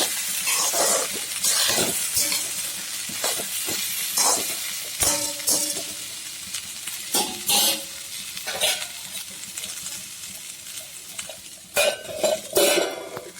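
Okra, green chilli and boiled koorka are stirred in a hot pan while cooking a theeyal, giving a low sizzle under repeated scraping strokes and light metallic clinks of the spoon against the pan, near and irregular, with no talking.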